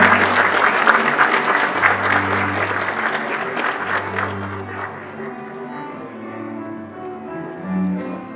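A crowd applauds at a 2022 Korean new-technology certification award ceremony, loud dense clapping for about five seconds that then thins and fades while low ceremonial music continues underneath.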